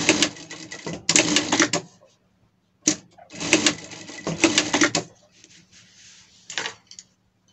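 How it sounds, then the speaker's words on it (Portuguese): A sewing machine stitches a leather dog harness in close, whirring bursts of about a second each, separated by short pauses, with a softer final run. "Passando uma costura aqui nessa outra nossa parte aqui"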